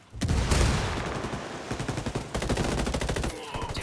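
Dense automatic gunfire rattles through a firefight in the tactical shooter Ghost Recon Wildlands, loud and close, with a continuous burst followed by rapid staccato shots that keep pounding to the end.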